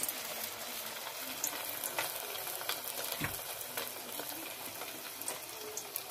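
Traíra fish cakes frying in hot oil, a steady close sizzle and crackle running throughout with faint clinks of a utensil, no voices.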